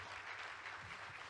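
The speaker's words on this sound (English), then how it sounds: "Can we have a please round of applause for Keshav?" Applause from an audience at a fireside chat event, a soft, steady clatter of clapping at low volume throughout, with a brief louder thump near the end.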